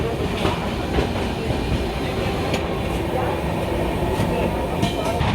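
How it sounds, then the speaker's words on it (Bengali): Inside the Shatabdi Express 12017 running from New Delhi to Haridwar, a steady rumble of the moving train comes with rhythmic wheel clacks and rattling as it passes through a station. "বলতে বলতে ট্রেন মেডাল স্টেশন ক্রস করছে"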